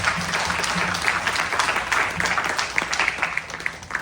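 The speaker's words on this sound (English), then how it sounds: "Please give him a round of applause." Audience at a youth yajna in a Hindu temple hall applauds steadily, a dense, sustained wash of many hands clapping with no speech over it.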